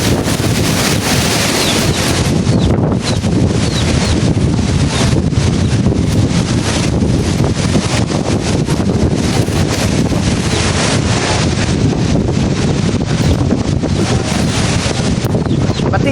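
Strong, constant typhoon wind in Albay, Philippines roars and buffets the microphone without letup, a dense rushing noise throughout.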